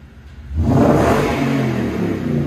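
A Toyota Tundra with a MagnaFlow dual-in, dual-out muffler revs hard, the engine swelling from a quiet idle into a loud, sustained roar that holds and slowly eases, close to the exhaust with no talking.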